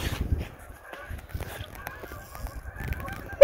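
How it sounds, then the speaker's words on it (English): Geese honk in scattered bursts during ice fishing on Lake Minnetonka, with repeated calls at a moderate distance over quiet background noise. "Those geese."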